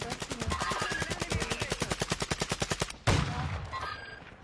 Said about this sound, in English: There's a team shooting down here somewhere.